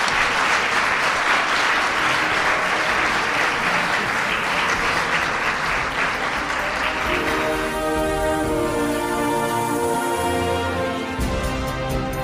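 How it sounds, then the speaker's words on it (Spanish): Sustained applause from a podcast audience, dense and steady clapping for about seven seconds before giving way to a musical outro with no talk. "Bueno, un aplauso para Maese."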